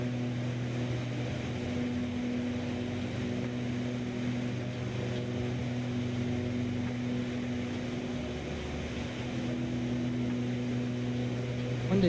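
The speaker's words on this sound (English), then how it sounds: "One day maybe I'd like to see them make the engine sounds a little better in this airplane." The engine of an ATR 72-600 turboprop airliner in Microsoft Flight Simulator 2024, a steady droning hum with constant low tones, moderately loud and unchanging throughout, with no voices.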